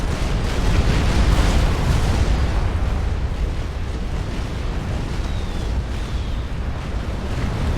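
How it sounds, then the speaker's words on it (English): Tech missile launchers unleash a barrage of explosions in the Supreme Commander strategy game, a loud, dense, continuous roar of overlapping blasts and rumbling booms with no gaps. "here's the big barrage of tech missile launchers"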